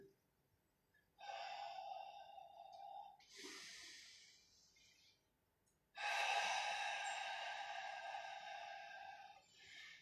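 Breath pushed out during a Pilates exercise: a short exhale, then a second longer, stronger exhale that blows steadily for about four seconds, close and alone with no talk over it.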